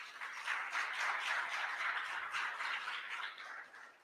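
Audience applause at a book launch for a legal volume on criminal proceedings, a soft, even patter of many hands clapping from a distance, tapering off near the end.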